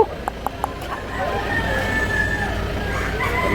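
A rooster offered at a chicken sale in Consolacion, Cebu, crows in a long drawn-out call partway through, over a steady backdrop of crowd noise and a few short knocks near the start.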